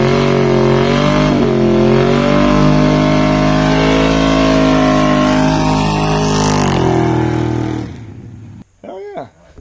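A car engine revs hard and loud up close, the pitch swooping up and down over several seconds of throttle blips, then cuts off, leaving brief short noises after it.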